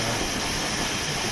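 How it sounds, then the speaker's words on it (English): Simulated train running on the North Somerset Railway, the former Great Western line into Radstock, in Train Simulator 2021: a steady, dense rumble and hiss that stays level and unbroken throughout. "Train is not under control at the moment."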